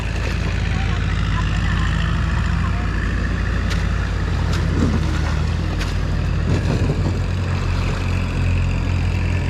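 A heavy farm tractor engine drones steadily at low pitch in a rice field, running continuously and loud, with faint voices and clatter mixed in.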